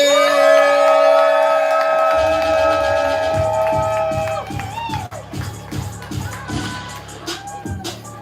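A poetry slam audience cheers and whoops loudly for the next poet, with sustained shouting that fades into rhythmic clapping and scattered yells, close and lively.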